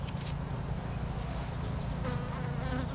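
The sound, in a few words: honey bees buzzing around a hive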